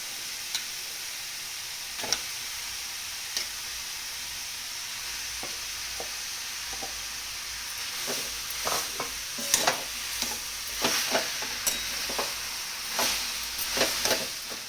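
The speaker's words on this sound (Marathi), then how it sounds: "गूळ टाकून घेते." Jaggery for a raw mango preserve being stirred in a pan, a steady faint sizzle with scattered scraping clicks and stirs that grow busier and louder toward the end, no voices.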